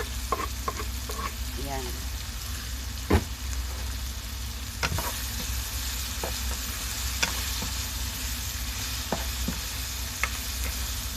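Shrimp paste frying in a pan, a steady broad sizzle with scattered clicks and scrapes of stirring, close and continuous, with a brief spoken word.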